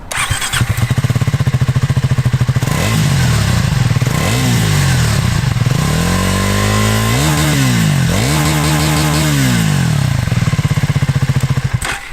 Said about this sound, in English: they certainly know what they're doing when it comes to a pleasing note at the exhaust